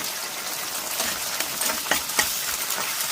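Singhi fish frying in a pan, a continuous close hiss and sizzle with a few louder crackling bursts as the oil spatters, no voices.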